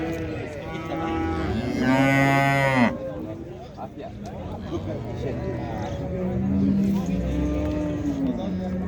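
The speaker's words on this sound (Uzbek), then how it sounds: "Mana sigir akalar." Cattle mooing at a livestock market, several long, loud, close lowing calls with one rising higher, while people talk nearby amid general market bustle.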